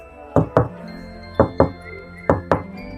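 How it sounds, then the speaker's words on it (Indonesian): Someone knocks on a bedroom window at night in three evenly spaced pairs of sharp raps, each pair a quick double knock, close and distinct, with quiet between. "tiba-tiba ada suara ketukan dari jendela kamarnya"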